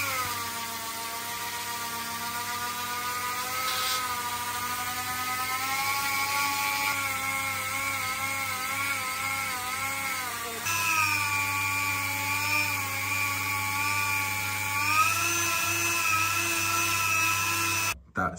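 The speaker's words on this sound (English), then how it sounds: "Get the old Dremel fired up and then I'll just go in and start polishing." A Dremel rotary tool whines steadily while polishing a port in a 1JZ engine cylinder head, a close, continuous high-pitched whir with slight pitch wobbles as the bit loads up, ending abruptly near the end.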